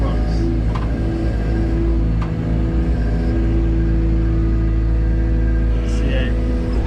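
A running excavator engine on a home building site, digging with the bucket, gives a loud, steady, close diesel rumble with even harmonics throughout, with a voice talking over it.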